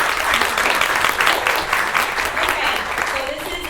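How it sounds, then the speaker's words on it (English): An audience applauds a board member of a healthcare laundry cooperative at a panel discussion, giving steady, dense clapping that holds at full strength throughout before easing slightly at the end. "So a round of applause for Ms. Crystal."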